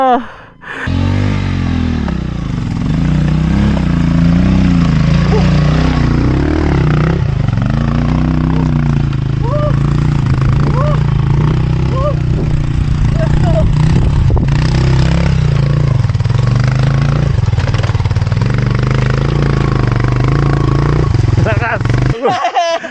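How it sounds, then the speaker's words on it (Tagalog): Two motorcycles, one a Rusi, rumbling close by, revving as they approach, with voices talking over the steady engine noise. "May papunta pa dito, yung dalawang motor pa."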